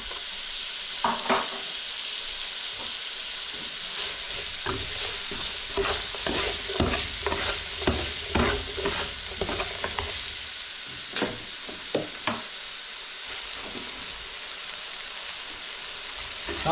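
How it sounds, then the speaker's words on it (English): Onions, peppers and mushrooms frying in olive oil in a pan, a steady sizzle throughout with repeated scraping clicks of a utensil as the vegetables are stirred. "a bit of oil in there heating up, so all basically it's going to fry off the onions, peppers and the mushrooms there"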